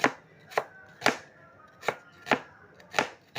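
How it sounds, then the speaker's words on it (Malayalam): A knife thinly slices onion on a cutting board in sharp, evenly spaced strokes, about seven cuts, close and crisp with quiet pauses between. "പപ്സിന് വേണ്ട ഉള്ളി ഞാൻ അരിഞ്ഞു കൊടുക്കുവാണേ തീരെ കനം കുറഞ്ഞു വേണം അരിയാൻ"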